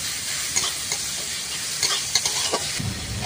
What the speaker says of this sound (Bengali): পেঁয়াজটা দিয়ে আমি একটু ভালো করে এটাকে ভেজে নেব।